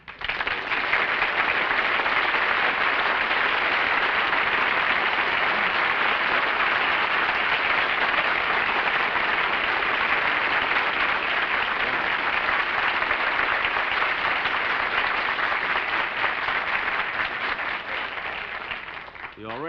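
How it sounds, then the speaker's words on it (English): Studio audience at a live television comedy show applauding a Hollywood guest star, a dense, loud, steady wash of clapping that holds for about twenty seconds before tapering slightly at the end. "You already got more applause than I did."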